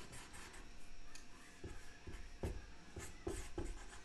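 A pen draws a turtle on paper with quick scratchy strokes and short rubbing bursts, close and faint, and no one speaks.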